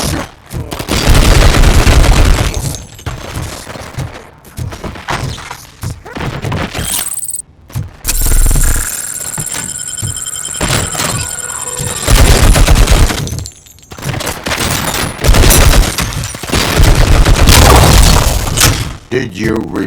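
Gunfire in the video game RoboCop Rogue City, with bursts of shots and booming impacts over a dense, loud action soundtrack, broken by brief pauses and mixed with game voices.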